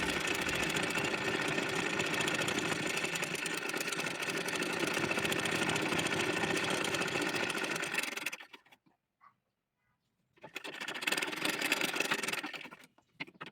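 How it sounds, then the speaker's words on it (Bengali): A sewing machine runs steadily for about eight seconds while hemming the thin lower edge of a baby frock made of bexi voile fabric, then stops briefly and starts again for a shorter burst. "নিচের অংশ চিকন করে বোটে সেলাই করে নিচ্ছি"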